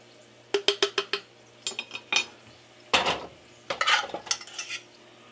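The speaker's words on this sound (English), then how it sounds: "I'm going to put some beans over the cheese." A metal spoon clinks repeatedly against a pan and plate while beans are spooned over cheese on a tostada, with a quick run of taps followed by scraping and stirring bursts, close and fairly loud.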